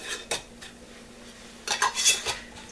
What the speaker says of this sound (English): we are just going to put some hot, clean lids on, and then the ring